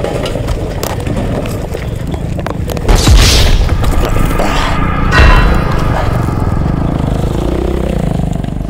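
A motorcycle crawling in first gear up a steep rocky road on a trip through the Balkans, a rough labouring engine that sputters and stalls, followed by heavy thuds and scraping as the bike falls, loud and close throughout.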